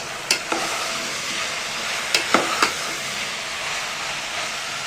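Chopped vegetables sizzle steadily in a pan for veg biryani, with a few sharp scrapes of the spoon as they are stirred, close and without talk.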